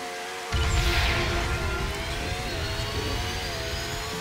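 A McLaren car engine in Roblox Ultimate Driving Universe kicks in abruptly and holds a high, revving whine that climbs and sustains, sounding close and continuous.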